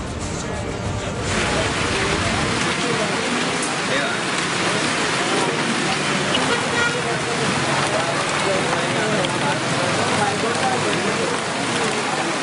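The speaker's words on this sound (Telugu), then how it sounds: "హైదరాబాద్లో ఈదురుగాలులతో కూడిన భారీ వర్షం కురిసింది." Heavy rain with gusty winds pours down in Hyderabad, a dense continuous hiss of rain striking surfaces, loud and unbroken throughout.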